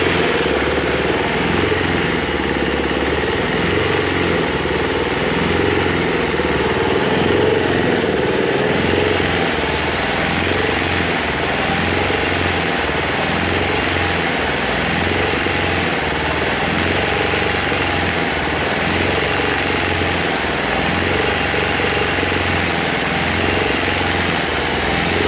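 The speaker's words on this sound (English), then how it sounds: "But she's running on wood gas, fellas." Small engine running on wood gas, steady loud droning with a rough, pulsing low throb throughout, the air intake being adjusted, heard close and alone without talk.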